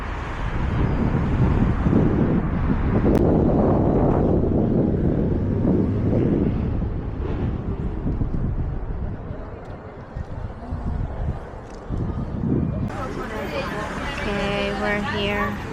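Wind gusts buffet the microphone with a heavy, steady low roar outdoors in the city of Trieste, Italy, with a brief lull midway and faint street noise underneath.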